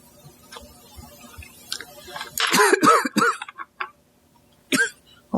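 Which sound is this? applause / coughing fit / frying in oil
coughing fit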